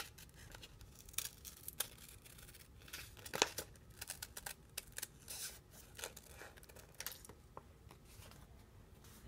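Scissors cutting through a paper sewing pattern, quiet and close, with a run of short irregular snips and paper rustles over several seconds.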